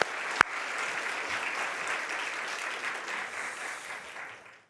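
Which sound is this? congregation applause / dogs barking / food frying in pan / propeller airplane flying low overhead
congregation applause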